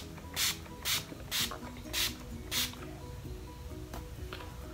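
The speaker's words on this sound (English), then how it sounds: "So I'm just going to spray this all over my face." Urban Decay Rebound priming spray misted onto a face in five short, even hisses, evenly spaced, then a sixth fainter puff, over a steady background of music.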